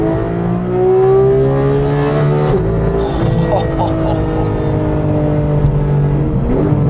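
A Porsche 911 GT3 (991.1) with a 475-horsepower naturally aspirated engine revs up close and loud, pitch climbing in long sweeps toward very high rpm, then holding a sustained high wail.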